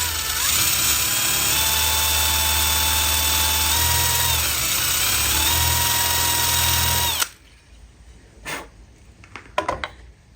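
A power drill bores two dowel holes into a wooden board for an L-shaped desk. It whines loud and close for about seven seconds, its pitch dipping under load, then cuts off, leaving a few sharp knocks and clicks.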